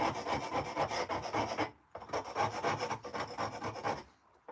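Hand chisel working carved stone, with rough repeated scraping and rasping strokes, close and moderately loud, in two long bursts separated by a short pause and a fade at the end.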